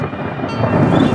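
Steady heavy rain pours with a deep rumble of thunder rolling underneath, loud and continuous, no voices.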